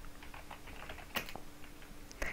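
Keyboard typing on a computer while searching in the Google Play Store, a quick run of soft, close key clicks with a couple of sharper taps, no voices.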